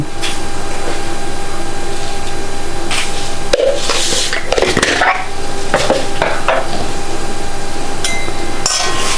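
Mustard seeds spluttering in hot oil in a home kitchen, a steady close sizzle with scattered pops and crackles bursting out in a busy cluster midway through, no talk.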